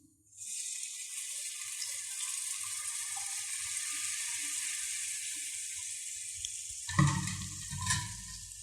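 Spiced yogurt added to sizzling egg gravy in a pan gives a steady, close hiss. Near the end come brief stirring and clattering sounds.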